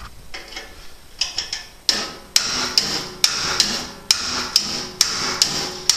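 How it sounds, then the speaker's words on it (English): A hammer tapping a corroded, stuck heating element to free it, heard as a steady series of sharp metallic strikes about every half second, close and fairly loud, with no talk. "we're just going to tap down on this heating element very gently"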